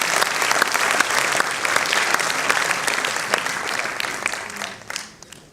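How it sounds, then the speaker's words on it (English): Sustained audience applause fills the hall at a 25th anniversary celebration, loud and dense throughout and thinning slightly toward the end. "please, a big round of applause"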